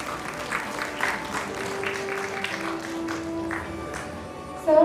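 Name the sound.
audience applause at award ceremony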